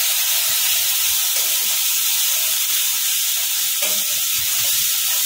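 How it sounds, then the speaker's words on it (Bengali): Spices and turmeric for Bengali pahari dum aloo sauté in a pan, a steady close hiss and sizzle throughout with faint stirring clicks. "একটুখানি কষিয়ে নেবো।"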